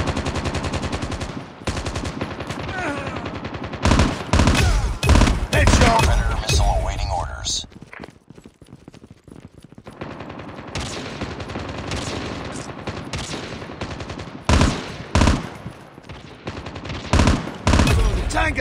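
Bursts of automatic gunfire from Call of Duty Mobile rattle in dense rapid volleys, with a brief lull in the middle before more firing resumes; the shots are loud and close, with no talk over them.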